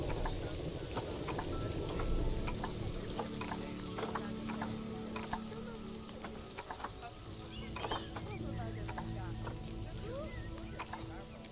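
Rain in the Planet Zoo video game falls as a steady patter with scattered close drip ticks, moderately quiet, continuous throughout, with faint background game sounds mixed in.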